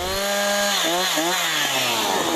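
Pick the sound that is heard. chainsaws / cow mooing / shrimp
chainsaws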